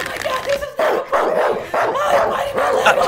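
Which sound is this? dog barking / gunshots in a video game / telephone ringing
dog barking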